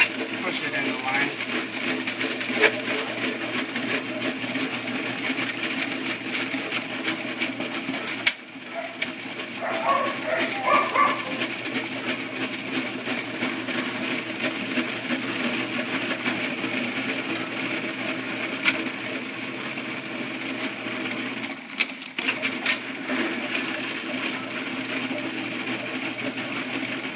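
A plumber's drain snake machine drives its cable into a drain pipe on a service call, giving off a continuous close mechanical whir and rattle with occasional clanks and brief dips.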